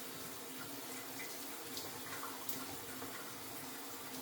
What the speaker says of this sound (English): I'm going to take my siphon and wash it all through here.